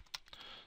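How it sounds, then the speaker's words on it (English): Keys on a computer keyboard are tapped as numbers are entered, a few soft, quick clicks close by in a quiet room. "I'll just hit some random numbers on my keyboard"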